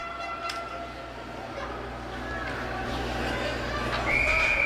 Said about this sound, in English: Offside, so we'll get a whistle.